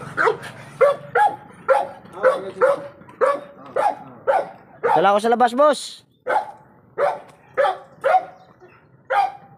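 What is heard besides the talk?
big dog barking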